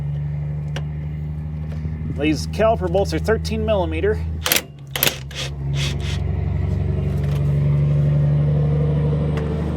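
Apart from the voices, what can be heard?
big farm truck driving past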